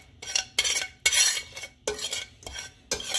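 Seasoning for fresh dorade fish is mixed in a bowl with a utensil: about six close, rhythmic scraping and clinking strokes with short pauses between them and no voices.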